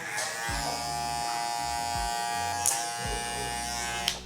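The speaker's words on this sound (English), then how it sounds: "any line you do see with the trimmer, you go back with the trimmer to get it out" Electric hair trimmer buzzing close up while fading dense 4C hair, a steady high-pitched hum with soft low thumps as the blade moves through the hair.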